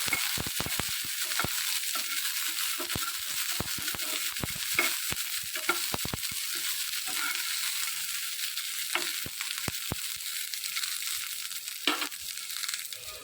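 Green chillies fry in a pan with a steady, even sizzle, punctuated by sharp scraping clicks from stirring.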